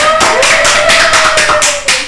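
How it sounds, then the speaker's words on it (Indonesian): A small audience claps for a young child who has just recited a Quran surah from memory, a close burst of quick, uneven handclaps lasting about two seconds. "Tepuk tangan dong buat"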